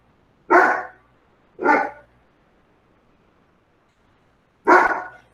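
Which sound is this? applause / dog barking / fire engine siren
dog barking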